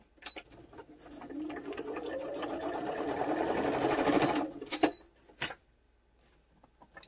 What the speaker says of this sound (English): I'm going to actually stitch here down the middle with a straight stitch